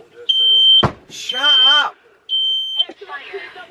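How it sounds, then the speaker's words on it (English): A smoke and CO2 alarm in a caravan sounds loud, shrill, sustained beeps in two long bursts, with someone shouting between them. "So it's a smoke and CO2 alarm, and we had to just take the battery out to get it to stop beeping"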